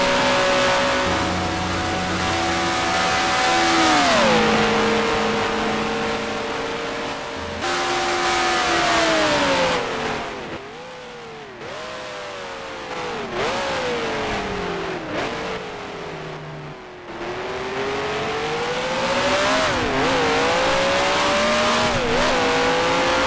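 Engines of 1971 sports cars, a Porsche 917 and a Ferrari, scream through the banked turns of an oval in Grand Prix Legends, loud and continuous, with pitch climbing through gears, dropping on upshifts and lifting off around 10 seconds before revving again.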